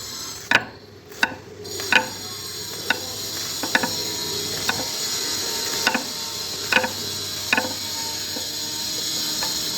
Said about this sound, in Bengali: এটাকে এবার ছোট ছোট করে চিড়ে নিচ্ছি